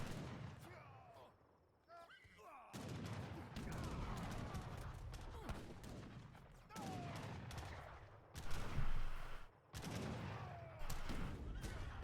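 Musket volleys and cannon blasts from an Age of Empires III battle crackle in dense, overlapping bursts, with heavier booms rising partway through, while a commentator talks over the din.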